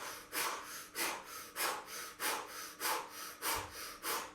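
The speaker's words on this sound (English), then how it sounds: "So let's begin with the breathing." Powerful rhythmic pump breathing during the Sahibi Kriya yoga exercise: about eight forceful, evenly spaced breaths through the nose, each a sharp rushing puff, close and loud with short quiet gaps between.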